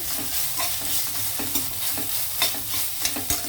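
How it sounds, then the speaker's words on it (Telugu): Carrot pieces with ginger garlic paste sizzle steadily in a pan, with scattered stirring scrapes and clinks across the clip, no talking. "క్యారెట్ ముక్కలు ఇవి వేగేటప్పుడే నేను కొంచెం అల్లం వెల్లుల్లి పేస్ట్ వేస్తున్నానండి"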